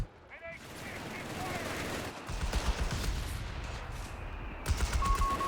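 Aircraft strafing run in Company of Heroes 3, a World War II strategy game: rapid dense machine-gun fire rattling continuously for several seconds, loud and close, with battle noise and a voice faintly underneath.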